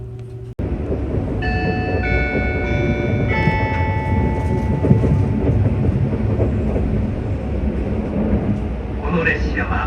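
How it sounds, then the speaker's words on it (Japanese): A departing train at Fujisawa station rumbles steadily at close range while chime-like tones and station announcements ring out over the engine noise. "そしてこちらの電車が先に発車します。"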